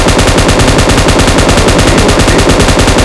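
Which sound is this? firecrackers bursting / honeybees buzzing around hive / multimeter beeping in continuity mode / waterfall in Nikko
firecrackers bursting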